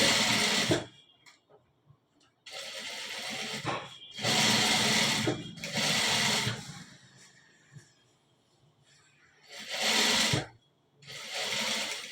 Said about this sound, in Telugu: బ్యాక్ పాకెట్కు స్టిచ్చింగ్ వేద్దాం